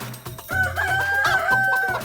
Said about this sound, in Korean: 닭!